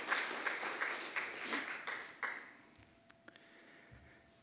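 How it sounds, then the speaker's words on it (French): An audience claps for Annie for a couple of seconds, the applause fading quickly into a few isolated claps and quiet room noise. "une main d'applaudissement pour Annie qui fait un travail exceptionnel"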